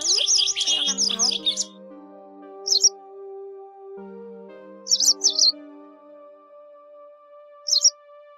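White and yellow wagtails and larks call in sparse groups of sharp chirps over long, sustained tonal whistles, with near, clear bursts separated by quiet gaps.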